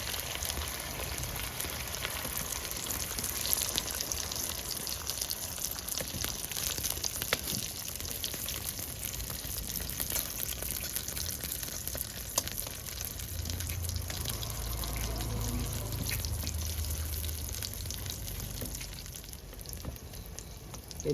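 Eggs and cabbage fry in a pan with a soft, steady sizzle throughout, fairly faint and even, with no talking.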